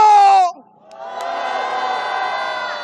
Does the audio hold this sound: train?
no